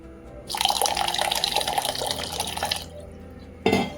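Wash water is poured off soaked sabudana (tapioca pearls) in a kitchen. A steady close pouring runs for about two seconds, then stops, followed by one short splash near the end.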